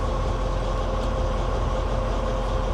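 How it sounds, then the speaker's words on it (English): A train passing a level crossing gives a loud, steady rumbling roar with no breaks, heard close by. "So the train's on its way, so hopefully the level crossing will go up"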